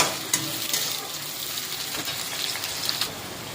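Onions fry in a pan, turning red and lightly browning ahead of the spices, a close, even sizzle with faint stirring scrapes and small pops throughout, no talking.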